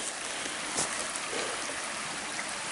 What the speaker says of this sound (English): Here's the flow of the water.